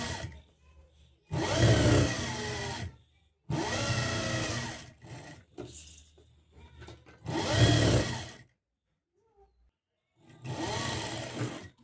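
A sewing machine runs in four long bursts, stitching the lining onto a blouse with a steady whirring motor and brief pauses between runs, close and fairly loud.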